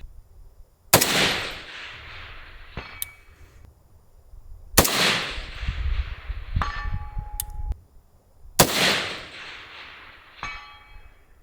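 Three loud rifle shots from a Cheytac CT10 firing Winchester M118 ammunition at a long-range target, each sharp crack followed by a rolling echo, with metallic clinks of the bolt cycling in between.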